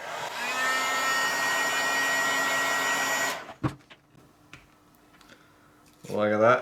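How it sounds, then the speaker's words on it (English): A heat gun blows steadily and loudly for a few seconds while peeling stickers, then cuts off, leaving light clicks and handling noises before a short voice near the end. "I've now got to try and remove these stickers, which I'm going to use a heat gun"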